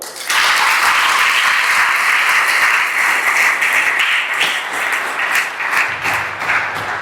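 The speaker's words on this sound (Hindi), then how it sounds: "ताली बजा दो।" An audience bursts into applause, a dense sustained clapping that carries on for several seconds before thinning slightly toward the end.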